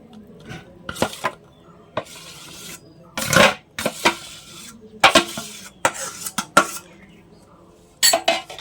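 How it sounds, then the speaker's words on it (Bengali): A spoon works mashed raw mango and sago paste together in a bowl, producing irregular bursts of wet scraping and clinking against the bowl separated by short quiet pauses. "আম আর সাবুটা এখন একসঙ্গে মিশিয়ে নেব ভালোভাবে।"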